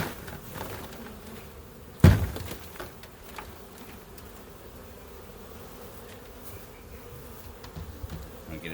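Honey bee swarm buzzing steadily as hive frames are shaken, with a sharp knock near the start and a continuous low insect hum throughout, close and moderate in level.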